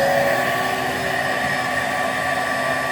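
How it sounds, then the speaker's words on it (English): A Bissell Powerforce 75Q1-E vacuum cleaner runs during a water lift test, giving a loud, steady motor roar with a hissing airflow that holds constant throughout, with no voices. "Let's test out the water lift on this thing."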